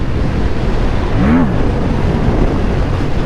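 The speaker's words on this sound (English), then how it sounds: "The wind's blowing or something." Wind buffeting a rider on a Yamaha MT-07 motorcycle, a steady loud roar of rushing air noise on the microphone with a brief tonal whine in the middle.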